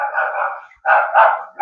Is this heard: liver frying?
no